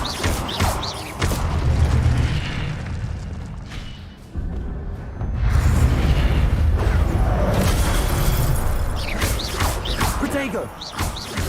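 An Incendio fire spell is cast in Hogwarts Legacy mid-battle, a whooshing fiery burst among loud crashes, thuds and clashing combat effects, with voices in the fight.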